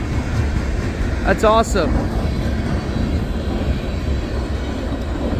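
A CSX freight train carrying Chessie and Conrail boxcars rolls past at night through snowy Point of Rocks, a steady low rumble and rail noise throughout, with someone briefly speaking over it.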